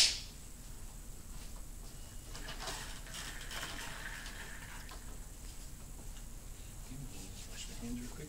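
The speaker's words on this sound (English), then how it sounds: "Wash my hands real quick." Hands are washed under a running tap during a nursing demonstration of nasogastric tube insertion; water pours in a steady, even rush from start to finish, close by.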